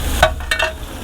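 Oil hits a hot pan while chicken chaap and paratha are being made, giving a brief sizzle with a couple of quick scraping stirs, close and fairly loud.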